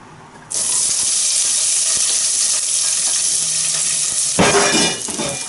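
Chopped onion hits warm olive oil in a pan and erupts into a loud, steady sizzle that holds for several seconds, with a brief burst of louder crackling near the end as more goes in; no one talks.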